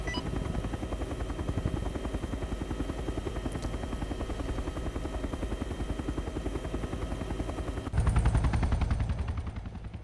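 A Chinook helicopter's heavy, rhythmic rotor thump drones continuously at a hot landing zone in ArmA 3, with bursts of gunfire mixed in and a louder surge of rotor noise toward the end.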